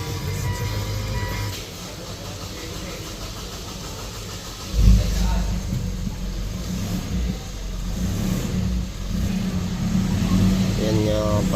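A Mitsubishi Montero with a 4N15 engine starts and settles into a steady idle, the engine running at close range with a brief loud surge near the start. Voices are heard talking over it.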